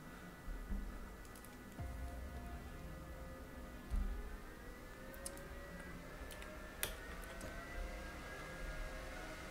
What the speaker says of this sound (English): So the weird noise you can hear in the background, that's my computer.